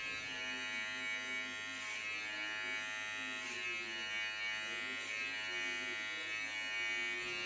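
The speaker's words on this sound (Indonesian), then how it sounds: "di sini kita harus gerakan clipper sedikit mengangkat keluar, atau istilahnya itu flick out" Electric hair clipper buzzing steadily and close while cutting hair on the lower side of a head and sweeping upward, with a few rhythmic swells as it flicks out of the hair, no talking.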